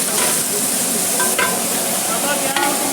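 Masala spices fry for kofta biryani at a food stall, a steady, fairly loud sizzle with scraping stir strokes of a ladle against the pot recurring every second or so.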